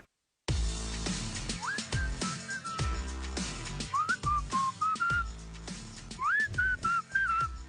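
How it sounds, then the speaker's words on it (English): A person whistles a bright, bouncy tune in short phrases over a steady rhythmic musical backing, clear and close. "Just whistling along"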